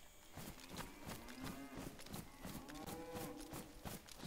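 Cows moo repeatedly in the DayZ video game, long low calls rising and overlapping one another nearby, along with steady hoof-like clopping.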